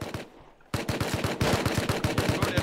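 Automatic rifle fire in the video game Rust, a loud, fast, steady burst of shots after a brief pause, with rapid evenly spaced reports that continue to the end.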